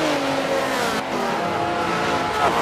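Race car engines roar continuously on Watkins Glen in the Forza 7 racing game, a loud steady high-revving drone with shifting pitch as a car spins out into turn 1 amid a pack including a Viper, a Corvette and a Ferrari 599 XX.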